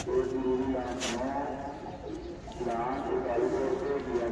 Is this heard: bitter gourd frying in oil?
no